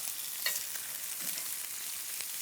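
Hamburger patties sizzle in a cast iron skillet with a steady, fairly faint frying hiss, broken by a brief clatter as one is turned over.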